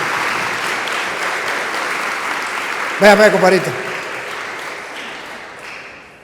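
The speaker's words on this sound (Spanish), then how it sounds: "Aplausos pues para el Señor y para este hermano." A church congregation applauds: a dense, steady clapping that stays loud across the whole stretch, with someone briefly speaking over it midway.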